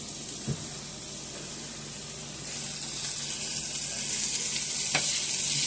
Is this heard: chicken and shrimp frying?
yes